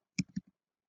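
A computer mouse gives a couple of quick, quiet double clicks in close succession, crisp and near, with silence before and after.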